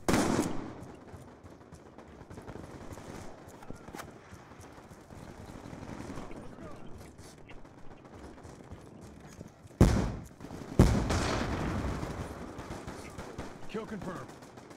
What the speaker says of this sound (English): Oh, shotguns.